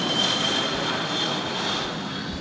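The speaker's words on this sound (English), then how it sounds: "We have jets going overhead, so I'll have to reshoot this because there's a bunch of jet noise now." Jet aircraft pass overhead as a loud, steady broadband roar with a faint high whine that fills the whole stretch without a break, with no talking.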